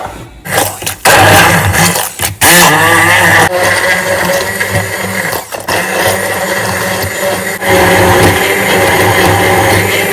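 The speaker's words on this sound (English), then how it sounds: "I'll go in with my shrimps, and then we will blend." A kitchen blender whirs loudly through onions, pepper and shrimps for a soup, starting in short bursts before settling into a long, steady grinding roar with slight changes in pitch.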